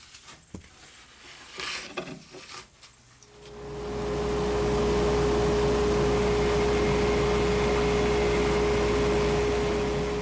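A lathe spins at about 1300 RPM, taking the corners off a square pen blank. After a few seconds of quiet handling clicks, the machine starts and settles into a steady, loud whirring hum.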